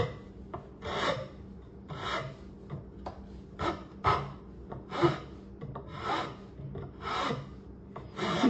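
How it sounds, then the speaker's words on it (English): A wood rasp scrapes in slow, regular strokes, about one per second, as it rounds the leg of a three-legged wooden table; close and fairly quiet, with no talking. "Got a wood rasp now,"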